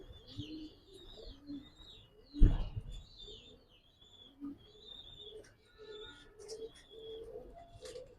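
A silver Giribaz pigeon, a single female, coos softly in a loft, with low repeated calls and higher chirps from other birds around it and a brief louder knock partway through.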